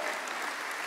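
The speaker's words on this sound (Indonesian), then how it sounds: "Tepuk tangan bagi Allah kita, tepuk tangannya Maria." A church congregation at a worship service claps together in a brief, steady burst of applause, fairly faint and distant.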